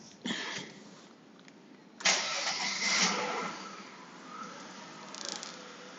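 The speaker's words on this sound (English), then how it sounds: "once I start the vehicle, which I will show you right now" A 1993 Mercedes-Benz 300SE cranking and firing up: a brief click, then the starter whirs and the engine catches about two seconds in, settling into a steady idle that swells slightly, close by and with no speech.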